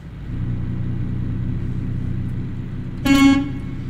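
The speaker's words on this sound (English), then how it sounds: "Honk honk." In American Truck Simulator, a low engine drones steadily, then a single short truck horn blast sounds near the end, loud and close.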